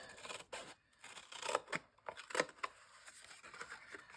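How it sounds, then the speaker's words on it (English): Scissors snip through a thin cardboard gelatin box, cutting out a piece, with a run of crisp close cuts and rustling paper handling between them. "So I'm going to cut out this gelatin"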